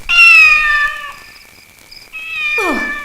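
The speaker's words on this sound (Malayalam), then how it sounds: "വരുന്നുണ്ട്, പൂച്ച വരുന്നുണ്ട്." A cat meows loudly and close by, two drawn-out plaintive calls with a brief pause between them in an otherwise quiet room.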